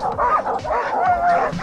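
Alaskan sled dogs yip and bark excitedly, close up, in a quick overlapping chorus of high whining barks.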